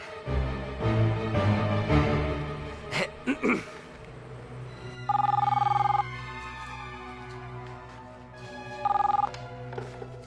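After some throat sounds and breathing, a phone's ringback tone rings twice with a long gap between rings, clear against a quiet background.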